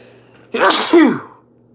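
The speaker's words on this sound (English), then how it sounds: "But about to sneeze and I want to do this, so y'all have to pardon me." One loud, close human sneeze, a sharp intake and burst lasting under a second, set against quiet room hum.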